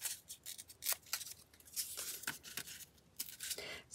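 Scissors trim a piece to fit an edge, with a quick series of close, crisp snips and the rustle of the material between cuts.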